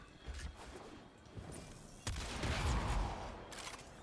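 The Tombfinger primary weapon fires in the Warframe video game: a burst of sharp gunfire impacts with echoing blasts, including a heavier explosive burst partway through, amid game background noise.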